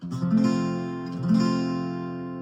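An acoustic guitar is strummed twice on a full F bar chord, each strum ringing out loud and close before slowly fading.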